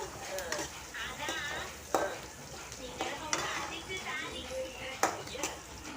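Onions frying in oil in a pan for Tamil tomato thokku, a continuous near sizzle broken by several sharp stirring scrapes, with a voice talking over it.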